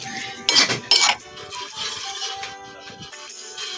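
Utensils clink sharply twice against a bowl while kangkong omelette ingredients are mixed, followed by softer scraping and stirring sounds in a home kitchen.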